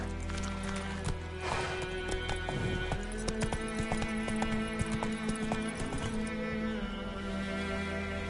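Roach, the horse in Witcher 3, gallops with a rapid, even clip-clop of hooves at moderate loudness over a continuous in-game ambient bed, with no talk.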